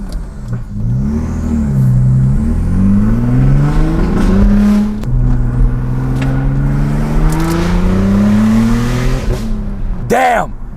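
A stage 3 Audi B5 S4 with a straight-pipe exhaust accelerates hard through several gears, its loud raspy engine note climbing and dropping with each shift from inside the car, with a voice speaking over it.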